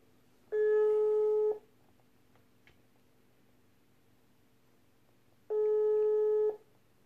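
A telephone ringback tone sounds while calling a kebab restaurant: two long, steady electronic beeps about five seconds apart, clean and close, with quiet line hiss between them.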